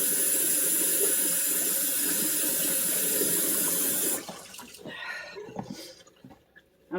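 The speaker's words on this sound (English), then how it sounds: "Let me rinse my hands off" Running tap water pours steadily for about four seconds as hands are rinsed under a sink, then shuts off, leaving quieter splashes and small handling noises.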